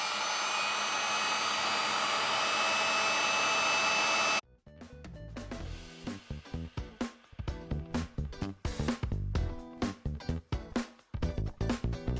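A hot air tool blows steadily for about four seconds, heating a shrink sleeve on a Goal Zero EC8 cable, then cuts off abruptly, leaving assorted lighter handling noises.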